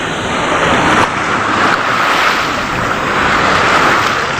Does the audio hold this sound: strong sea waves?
yes